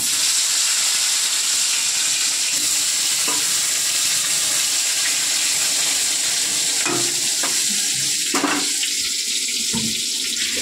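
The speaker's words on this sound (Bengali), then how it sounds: "এবারে গরম তেলে বেগুনগুলো ভেজে নেবো।" Eggplant pieces fry in hot oil with a constant sizzling hiss, broken by a few sharp clatters of stirring toward the end.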